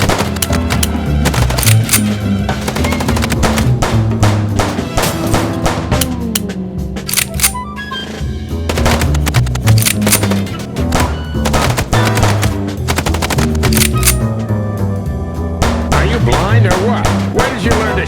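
A shootout in the video game Chicken Police: bursts of gunfire crack over a driving score, shots recurring in clusters throughout, loud and close, with little pause between volleys.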